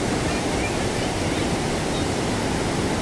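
A rain-fed river rushes and flows downstream near Jonha waterfall in Ranchi, Jharkhand, making a loud, steady, broadband roar of water that continues without a break.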